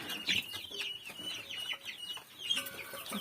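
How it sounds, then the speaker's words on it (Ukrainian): Soft, high guinea fowl chick peeps chirp repeatedly in a steady scatter inside a barn, with occasional low clucks from nearby fowl. "Тут два виводка, так вони трохи підпискують."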